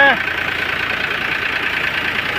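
A steady engine drones at a constant pitch, a continuous mid-range mechanical hum running throughout with no breaks.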